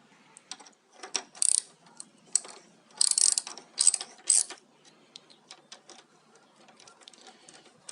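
A ratchet tightens the bolts on a front brake caliper after a pad change. Several close bursts of fast clicking come in short pulls, separated by quieter handling noises.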